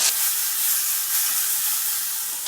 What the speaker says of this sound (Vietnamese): Xào với lửa lớn tầm khoảng 2 phút là nó chín rồi.